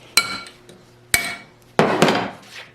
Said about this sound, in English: just tap this around with a flat bladed screwdriver or my punch here to undo it